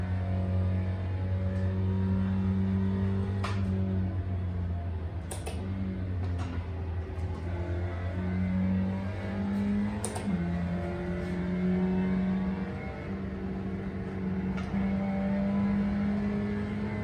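A car driving on cold tires, with a steady low engine drone and a slight rise in pitch as it accelerates, plus occasional faint ticks and clicks inside the cabin.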